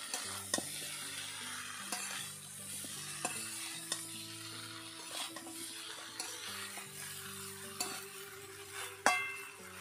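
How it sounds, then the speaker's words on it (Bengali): Jackfruit and potato chunks with salt are stirred in a pan, a soft scraping of the spoon sounding steadily over a low sizzle, with a few sharper clinks against the metal and one louder knock near the end. "লবণ দেওয়ার পর আবারও একটু নেড়ে নিচ্ছি"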